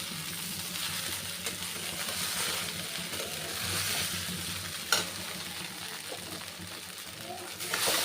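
Poha tinted with turmeric stir-frying in a pan over a medium gas flame, a steady close sizzle with spatula scrapes and one sharp clack, while a voice talks faintly underneath.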